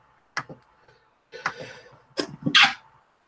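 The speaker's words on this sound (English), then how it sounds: "Oh, I gotta sneeze." A stifled sneeze builds through a few short, muffled catches of breath and ends in a sharp, hissing release close to the microphone.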